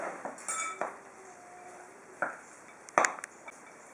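Salt and flour bread dough for Christmas ornaments being mixed in a bowl, scattered clinks and scrapes of a utensil against the bowl, close and quiet with irregular bursts.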